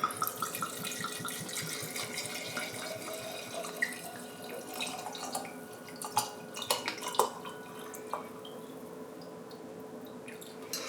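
Cheap vodka pours from a bottle into a jar of vanilla beans in a home kitchen, a steady trickling, splashing stream that runs for several seconds at moderate level, with faint clinks and no talk.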